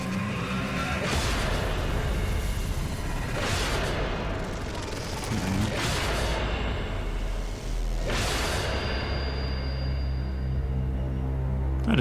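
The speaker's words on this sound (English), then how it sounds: "just wanted to show that they shoot lasers" Enemy ships in Starlost 2 fire lasers, heard as about three sweeping whooshing blasts with booming edges over a constant low engine-like rumble.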